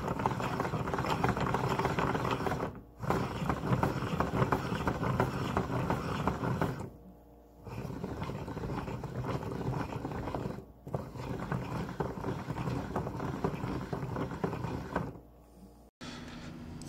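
Wooden peg gears and bevel gears of a homemade grist mill turning, running in one direction and then the other, a steady mechanical rumble and clatter in long stretches broken by short pauses, with no talking.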